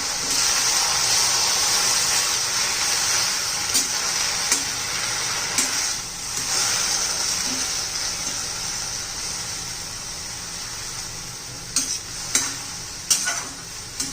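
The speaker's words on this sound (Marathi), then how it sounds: "हलवून घेऊया जरा" Steady sizzle of fenugreek leaves frying in a pan, with occasional scraping stirs from a spoon growing more frequent toward the end.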